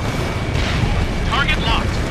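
SAM site blown up in the jet combat game Ace Combat Infinity: a loud rumbling blast over steady jet engine roar, with short synthetic cockpit tones near the end.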